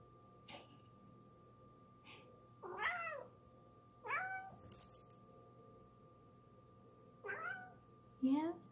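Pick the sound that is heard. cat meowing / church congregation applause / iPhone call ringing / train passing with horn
cat meowing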